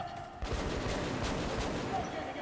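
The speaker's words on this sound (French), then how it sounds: "On encaisse des tirs!" In Metro Last Light Redux, a sustained fusillade of game gunfire starts abruptly and continues as a dense, rattling barrage, with faint voices mixed underneath.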